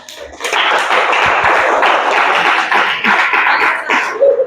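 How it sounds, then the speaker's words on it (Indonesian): A class of students breaks into sustained applause in a classroom, a dense, even patter of many hands clapping together for several seconds, fairly loud and close. "Tepuk tangan dong untuk kalian."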